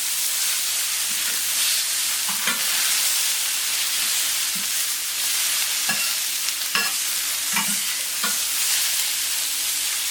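Onions grilling in a hot pan: a continuous loud, hissing sizzle up close, punctuated by occasional sharp spatters and spoon taps, with no voices.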